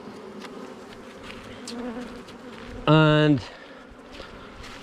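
Honey bees buzz steadily around hive frames during a beginner's hive inspection, a dense close drone throughout, with a brief louder tonal burst midway and a voice speaking briefly.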